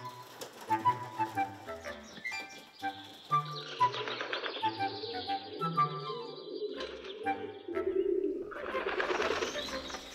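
Homing pigeons coo repeatedly in a loft, soft rhythmic calls overlapping with other bird chirps and some faint background noise.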